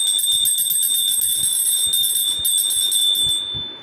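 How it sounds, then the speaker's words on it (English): A bright metallic bell rings continuously in rapid trills, loud and close, before fading out at the end. "hear the sound of a bell. Play the bell."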